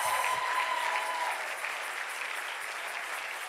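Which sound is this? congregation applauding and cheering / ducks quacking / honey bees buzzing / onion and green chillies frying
congregation applauding and cheering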